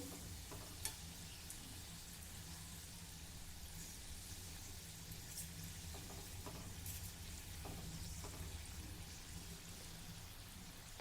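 Semolina-filled karanji deep-frying in hot oil, giving a soft, steady bubbling sizzle that runs evenly throughout with no one speaking.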